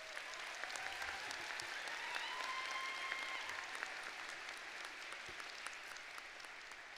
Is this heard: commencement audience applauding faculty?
yes